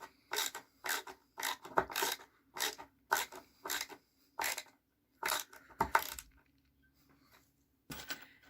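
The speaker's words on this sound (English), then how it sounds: "Go ahead and put those screws in nice and firm." Screws being driven by hand with a screwdriver into the base of an all-weather cat tree, heard as a steady series of short, crisp ratcheting clicks in regular bursts followed by a pause and one last burst, close and clear with no talking.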